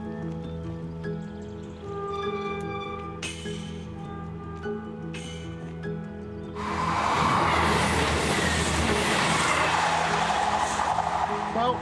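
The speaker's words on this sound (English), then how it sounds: "we've just had a train go past" A train passes nearby at a crossing, building from a quieter stretch into a loud, sustained rushing roar with screeching wheel noise that fills the second half.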